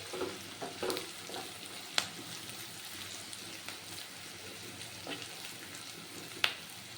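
Onion frying in a pan for Bengali aloo dum, a low steady sizzle with occasional stirring scrapes and a few sharp clinks, close and fairly quiet with no talking.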